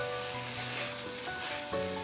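Biryani masala powder frying with vegetables in a pan for veggie biryani, a close steady sizzle with brief stirring scrapes, no talking.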